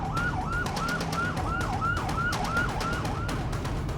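An ambulance siren wails near a hospital in Gaza after a strike, its tone rising and falling in a steady repeating cycle over constant loud traffic rumble.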